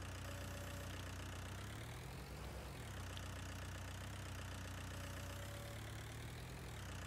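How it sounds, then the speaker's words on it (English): Kramer all-wheel-steer front loader sitting at idle, a steady low diesel drone with a faint rhythmic knock, continuous and close with no talking. "I went out and got us a front loader. It's a Kramer."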